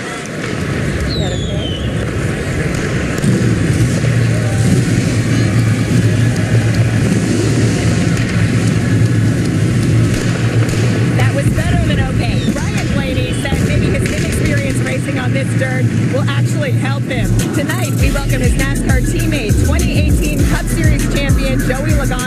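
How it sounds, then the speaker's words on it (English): Race car engines fire up and rev at Sharon Speedway during a 2022 SRX series round, a dense roaring din with a deep rumble building late, under an announcer's voice and crowd noise. "Drivers, start your engines."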